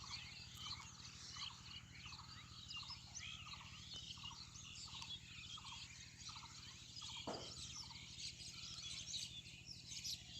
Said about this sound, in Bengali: এই জন্যই কিন্তু আসলে পাখির ডাক অনেকটা বেশি শোনা যাচ্ছে